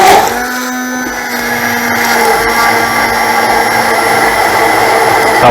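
A loud blender whirs continuously while beating a mint drink, a dense steady motor whine with slight fluctuations that stays close and unbroken throughout, with no voices.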